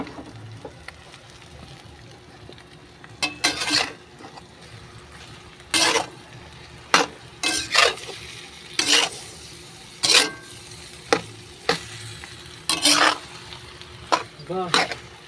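Ostrich egg stirred in a frying pan, with a series of short scraping stirs and soft sizzling, irregular strokes over a quiet background.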